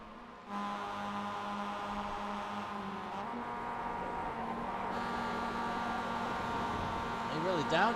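A Mazda MX-5 races around Suzuka in the iRacing sim, its engine a steady hum that shifts pitch as it downshifts, with rising revs near the end while commentators talk over it.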